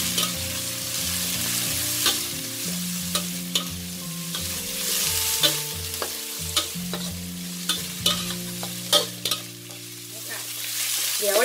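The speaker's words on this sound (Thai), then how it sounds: "เดี๋ยวเราผัดจนกว่าแครอทเราสุกนะ" Carrots and Chinese chive stems stir-fried in a pan: a steady close sizzle with a spatula scraping and knocking against the pan in irregular strokes throughout, no voices.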